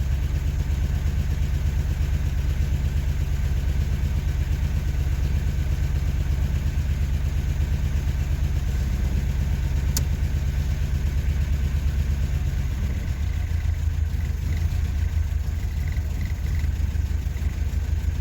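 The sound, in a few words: car petrol engine idling after first start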